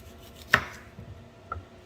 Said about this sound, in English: I'm just going to cut the tops off